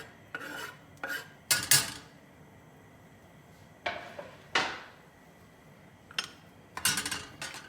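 Shallots being added to a cooking pan, heard as a series of separate clinks and scrapes of utensils against cookware, quiet and close, spaced irregularly with pauses between, no talk.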